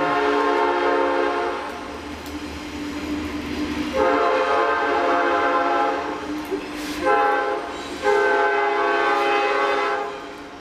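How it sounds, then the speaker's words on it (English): A train rolls past close by, its horn sounding loud, sustained blasts that start and stop in several bursts over steady rumbling, heard during hand-carving of a chair seat with an adze and scorp. "Here comes my train."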